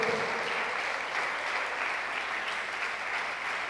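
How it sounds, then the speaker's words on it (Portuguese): A church congregation applauds continuously, a dense, even wash of clapping that holds steady from start to finish. "O aplauda em o nome de Jesus."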